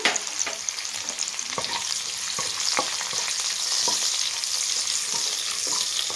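Cashews, green chillies and biryani spices fry in hot oil in a pan, a steady bright sizzle with occasional scraping taps of a stirring spoon, close and continuous without talk.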